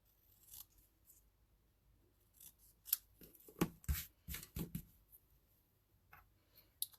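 Scissors freehand cutting a small paper thanks card, a series of quiet crisp snips in irregular clusters, close and without talk.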